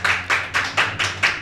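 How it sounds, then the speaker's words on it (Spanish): Six sharp hand claps land in a quick, even rhythm, loud and close. "Un aplauso a todos ellos, señores, muy fuerte"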